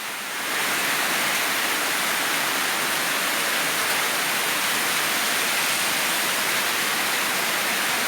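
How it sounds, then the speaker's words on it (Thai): Heavy rain driven by wind, a loud and steady wash of broadband hiss that swells in after a moment and then holds constant and close, with no voices. "ทั้งลมทั้งฝนเลยครับ มาพร้อมกันเลย"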